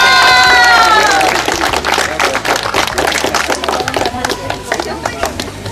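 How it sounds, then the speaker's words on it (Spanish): Audience at a telethon event breaks into dense, sustained applause that follows a brief loud voice at the start, with many overlapping claps filling the room. "fuertes aplausos."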